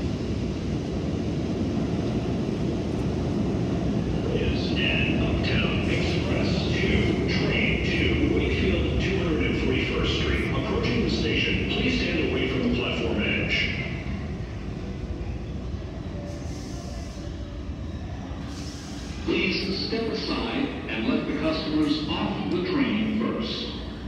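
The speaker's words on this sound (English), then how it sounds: "And it's another one train." A New York City subway 1 train rumbles steadily through the Times Square station, loud low roar with rail squeals and clatter, while people talk nearby over the noise.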